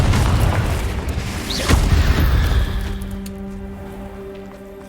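A Confringo fire spell detonates in Hogwarts Legacy, a heavy booming explosion with a deep rumbling burst and crackling debris that rings out and fades over a few seconds.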